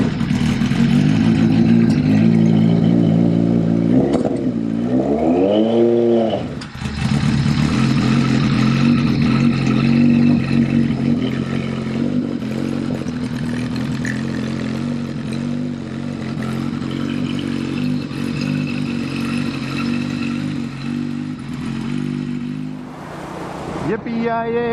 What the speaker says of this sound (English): I think I'm going to hop back on it and go for a motorcycle ride.